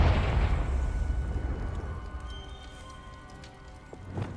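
A Confringo fire spell explodes in Hogwarts Legacy, a heavy low boom at the start that rolls off into a long crackling, rain-like decay, followed by a few faint pops and clicks.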